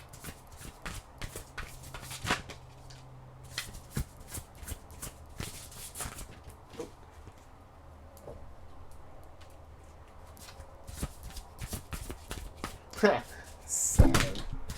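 Tarot cards being shuffled by hand, a run of quick riffling flicks close up with soft rustles between, a brief louder clatter near the end.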